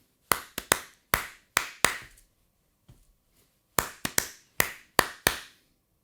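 Sharp snare drum strokes in tight clusters of two or three, a fill of reverse and forward ruffs played alone with a brief gap midway, crisp and close with quick decays.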